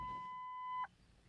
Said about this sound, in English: Then the car's beeping.